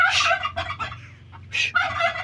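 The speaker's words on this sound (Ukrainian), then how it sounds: "я зараз вижену курку. Розкудахталась." A hen cackles loudly in a farmyard, with several bursts of repeated clucks separated by short pauses.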